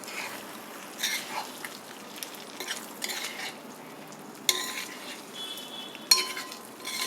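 Garlic chicken in chilli garlic sauce is stirred in a pan over high heat, with a faint, low sizzle and scattered scrapes and clinks of a utensil, including a couple of sharper knocks, and no talk.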